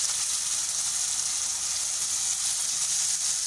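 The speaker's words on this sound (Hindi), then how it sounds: "मैं इसमें टमाटर डाल रही हूँ" Tomatoes frying in a pan of hot oil while making Banjara dal give off a steady, close, even sizzle with a bright hiss that holds at one level throughout.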